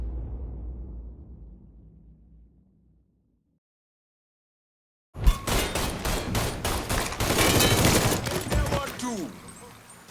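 Mafia III firefight: after a fading rumble and a few seconds of silence, rapid bursts of loud automatic gunfire break out and keep going, close and dense, with shouted voices mixed in.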